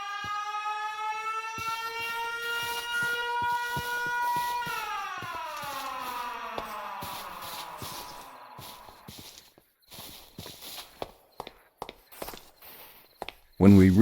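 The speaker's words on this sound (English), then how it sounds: "And once again heard the siren." The Siren Head siren in the Minecraft video game, a long wailing multi-tone blare that slides downward and fades, followed by footstep-like clicks and a voice.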